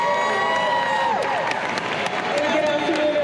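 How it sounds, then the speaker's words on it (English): Audience at a college graduate celebration clapping and cheering, a broad wash of hands and voices with shouts rising through it, while a host speaks over the top. "Clap it up, Dr. Ju."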